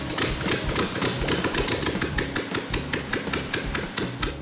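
A turnkey engine runs steadily in a custom garage, with a rapid, even mechanical clatter and a loud, close idle. No voices break in.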